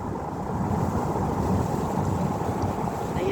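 Wind roars steadily across the microphone at Sabah Al Ahmad in a continuous low buffeting rush, with no voices and no breaks.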